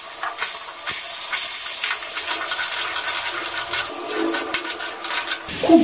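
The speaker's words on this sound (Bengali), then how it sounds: "আগে আলুগুলো ভেজে নিচ্ছি।" Potatoes frying in oil in a pan sizzle and hiss loudly and continuously at close range, with crackling bursts and a scrape near the end.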